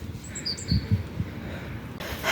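Small birds chirp and tweet outdoors near a bus stop, with short high calls scattered over low background rumble and street ambience, fairly faint and intermittent.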